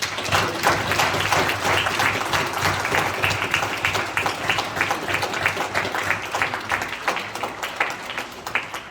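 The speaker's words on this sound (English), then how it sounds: "I would like to ask everybody to give her a round of applause." A room full of people at a homeowners association board meeting applauds warmly, steady clapping that carries on for several seconds before slowly thinning out.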